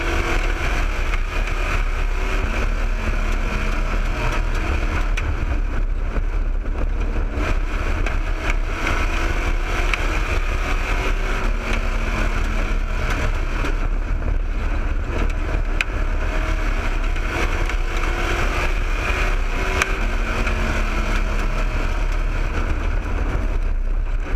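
A race car engine drones steadily and loudly as it drives around a track, its pitch swelling and dipping with the throttle through the whole stretch, with no voice over it.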